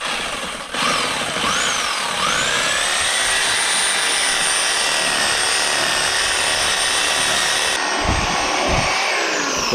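A power saw cuts through a roofing piece during house construction, a loud steady roar with a high whine that rises as the blade spins up, holding through the cut before winding down near the end.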